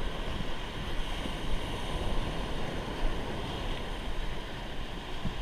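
Surf rolling onto Bhogwe beach on the Konkan coast, a steady broadband wash of breaking waves with wind across the microphone, continuous and fairly loud throughout, no voices.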